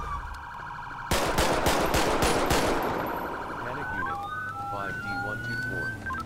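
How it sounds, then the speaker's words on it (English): A rapid string of about six loud gunshots cracks out in a police roleplay video game, following an engine hum and fading into a rising siren wail. "Shots fired."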